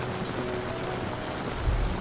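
Rain falls in the Amazon rainforest at night, a dense, even wash of patter close by with a soft low rumble swelling near the end.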